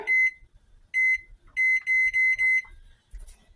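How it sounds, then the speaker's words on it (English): A high electronic kitchen timer beeps in short bursts: one beep, another, then a quick run of several, with faint clatter between, as vegetables boil. "I'm going to set the timer."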